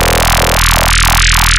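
A loud, buzzing synthesizer sine-wave tone warbles with repeated downward pitch bends, turning gritty and growly, alone and steady until it cuts off.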